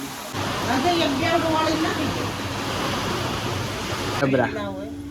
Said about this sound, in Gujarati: અહીંથી પાણી પડે